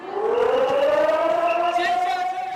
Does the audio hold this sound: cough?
no